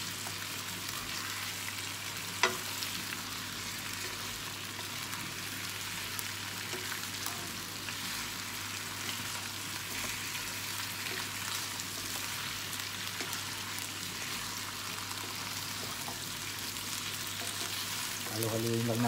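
Chicken fries in butter for a garlic and oyster sauce dish, giving a steady, even sizzle as it is stirred. A single clink sounds early on, and the cooking noise runs on its own without talk.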